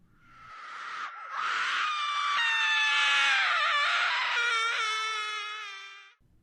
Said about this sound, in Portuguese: Um estranho grito de mulher.